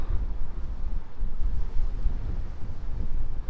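Steady wind buffets a hilltop at Tias on Lanzarote, a strong low rumble of gusts pressing on the microphone with no voices throughout.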